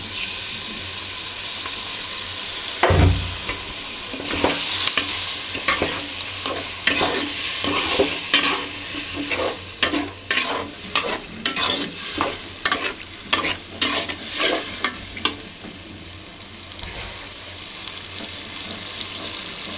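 Beef sizzling in a pan for bhuna khichuri while a spatula stirs and scrapes it, the sizzle steady underneath and the scraping strokes coming in quick irregular bursts.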